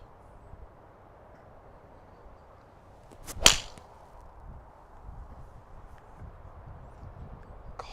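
A Ping G400 Crossover golf club strikes a ball with one sharp, loud crack that rings out briefly and then fades into quiet outdoor background.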